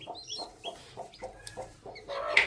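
Newly hatched black chicks on a farm give a run of soft, evenly spaced peeps and cheeps, close by with no talking, getting louder and busier near the end.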